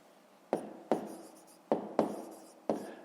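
A pen scratches across paper in five separate strokes, each starting with a sharp onset and trailing off, with quiet pauses between them; close and fairly loud, no talking.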